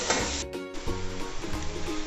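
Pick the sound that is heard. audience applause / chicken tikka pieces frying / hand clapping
chicken tikka pieces frying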